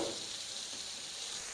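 Hash browns crisping in a pan with a steady, even sizzle, a close, continuous hiss with no talking over it.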